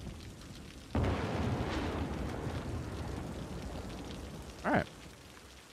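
Rain in the city-building game Cities: Skylines falls as a steady broadband hiss that starts abruptly and continues throughout, with a short louder burst near the end and a brief spoken word.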